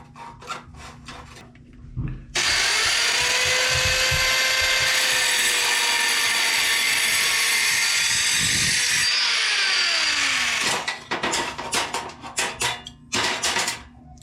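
An Eastwood mini metal saw cuts through 2-inch square steel tubing: a loud, sustained high-pitched grinding whine for about eight seconds, flanked by short mechanical clunks and handling sounds before and after.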